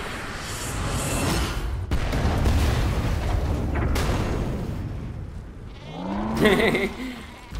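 In Metal Gear Solid V: The Phantom Pain, after rumbling booms and noisy game sounds, a few goat bleats ring out near the end, fairly loud and wavering.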